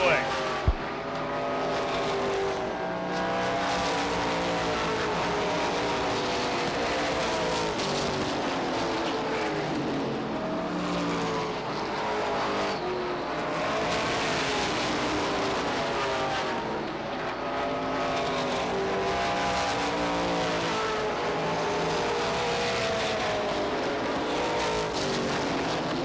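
Race cars circle the track at Beech Ridge Motor Speedway in 1991, their engines droning continuously and rising and falling as they pass, beneath an announcer's running commentary.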